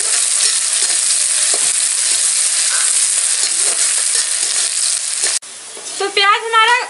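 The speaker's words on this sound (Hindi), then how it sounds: "तो प्याज को हम गोल्डन ब्राउन होने तक भून लेंगे।" Chopped onion sizzles loudly in a hot pan, a dense continuous frying hiss with occasional stirring scrapes, close up; near the end the sizzle drops and a brief voice cuts in over it.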